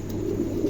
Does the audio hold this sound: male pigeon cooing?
yes